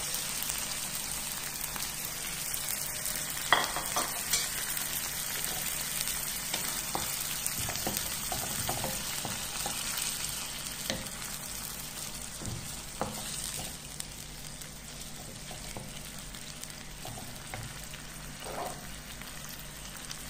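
Tomato mixture frying in a little oil, a steady soft sizzle running throughout with small crackles and pops scattered across it, close and even, with no talking.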